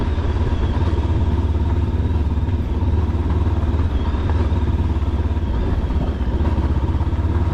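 A Rieju Aventura 500 motorcycle rides along at a steady pace, its engine a continuous loud droning rumble mixed with wind and road noise, with no pauses.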